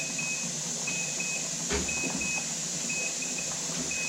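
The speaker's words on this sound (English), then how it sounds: "my timer's going off" Short, thin electronic beeps repeat in a steady pattern over a low background hum, with a brief clatter in the middle.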